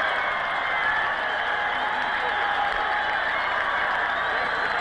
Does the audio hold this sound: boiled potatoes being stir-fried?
no